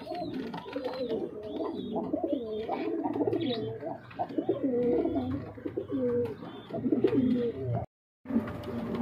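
Several Giribaz pigeons coo close by in repeated soft, throaty rolling phrases, overlapping at a moderate level, with a brief silent gap near the end before the cooing resumes.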